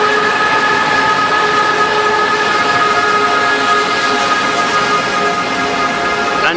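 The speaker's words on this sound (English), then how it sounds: "And here it is, Saudi's answer to the bullet train." A high-speed bullet train in Saudi Arabia rolls steadily in, with a continuous loud rumble and sustained tonal whine, no voices.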